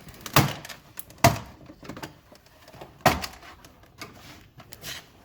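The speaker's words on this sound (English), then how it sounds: "start working your way through the door panel on the bottom, splitting it from the door." A Chrysler Crossfire door panel is pried away from the door, its plastic clips releasing in three sharp, loud snaps spaced apart, with softer scraping and handling noises between them and no voices.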